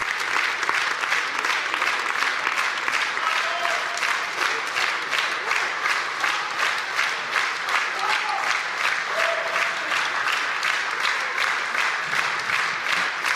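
A theatre audience in Novgorod gives a long ovation after a Russian drama theatre troupe's performance, dense sustained applause that settles into a rhythmic, unified clapping pulse for over thirteen seconds, with faint voices beneath.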